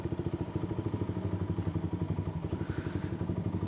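A motorcycle engine idles steadily while warming up, its close, even chugging pulses running without a break and no talk over it.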